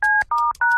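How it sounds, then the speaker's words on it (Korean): Three short touch-tone beeps from a telephone keypad as a number is dialed, evenly spaced, clear and close with no talking. "잠깐 있어봐. 전화 좀 걸게."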